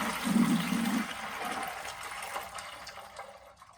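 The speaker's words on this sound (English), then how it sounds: "Make sure you have yourself a bucket and drain it all out." Water drains from an ice machine's drain hose into a bucket as a continuous gushing splash that slowly tapers off, close by.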